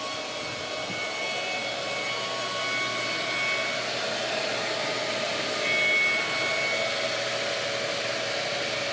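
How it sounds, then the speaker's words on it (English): A CNC router cuts hinge mortises in a fine wooden box, a continuous high spindle whine with steady cutting noise, close and unbroken throughout without speech. "2 hinges to cut, 2 passes each with auto pass"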